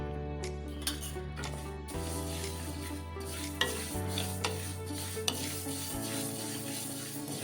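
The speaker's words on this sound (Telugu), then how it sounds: "మెంతులు మంచి సువాసన వస్తున్నాయి, వేగుతూ ఉంటాయి" Mustard seeds and fenugreek dry-roasting in a pan for gongura pickle give a steady, soft crackle with light stirring scrapes and occasional clinks of a spoon against the pan, close and continuous, with no talking.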